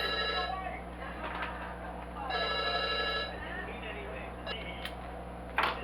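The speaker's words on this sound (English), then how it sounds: "Phone been buzzing all day." A telephone rings or buzzes in a home kitchen during holiday cooking, a repeating electronic tone that comes and goes behind kitchen clatter and background noise.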